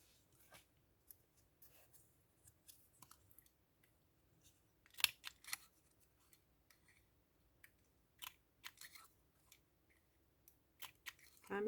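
Corners of a hard paper card being rounded off, heard as faint, sparse snips and clicks with short crisp bursts scattered over a quiet room.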